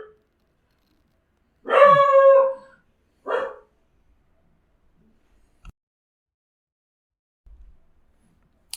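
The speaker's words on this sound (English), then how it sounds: "There was a dog." A dog lets out a drawn-out bark that rises into a brief howl, then a second shorter bark. Both calls are clear and stand alone against near silence, with faint knocks afterward.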